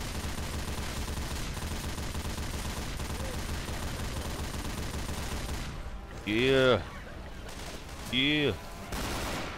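Mounted machine gun firing in Left 4 Dead 2, a continuous dense rattle of rapid shots running for most of the span, with a voice shouting briefly over it near the end.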